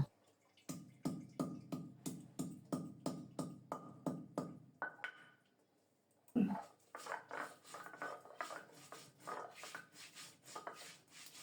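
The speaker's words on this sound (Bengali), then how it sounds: "পাটার উপর নিলাম অল্প জিরা দারুচিনি এলাচ আর অল্প একটু আদা এগুলি একসাথে মিহি করে বেটে নেব" Cumin, cinnamon, cardamom and a little ginger ground on a stone slab, rhythmic rasping strokes roughly twice per second, close and quiet, pausing briefly before resuming at a slightly quicker, looser pace.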